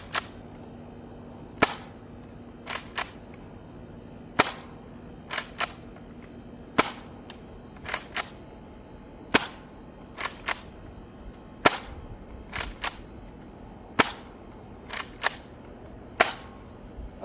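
Nerf Rival medium-capacity spring blaster firing: a long series of crisp, close snaps, often in quick pairs, repeating every second or two with no talking.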